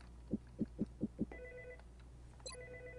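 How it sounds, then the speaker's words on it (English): A telephone rings in a room in XCOM: Enemy Unknown multiplayer, five quick low electronic pulses followed by sustained tonal beeps and a brief rising chirp, faint and alone. "The phone in here is ringing."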